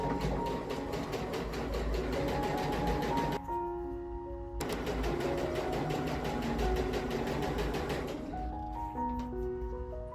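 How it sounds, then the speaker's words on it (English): A sewing machine runs fast, chain-stitching pairs of quilt fabric pieces in a steady rapid whir, pausing briefly once and easing off near the end as the pieces feed through without the thread being cut. "I'll continue to stitch down, feeding each one of the pairs into the machine without stopping to break my thread"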